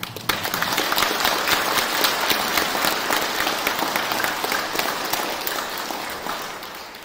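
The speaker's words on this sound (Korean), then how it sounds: "다시 한번 찬탄의 박수" A congregation at a Buddhist Dharma gathering breaks into a loud, sustained round of praising applause, many hands clapping densely and evenly for about seven seconds, easing off a little toward the end.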